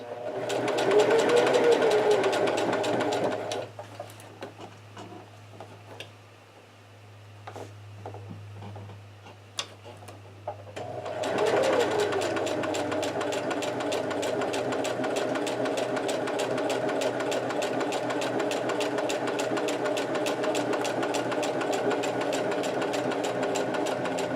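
A sewing machine runs with a fast, steady ticking stitch, then stops briefly for a few clicks and knocks before starting up again and stitching on steadily, close and clear throughout.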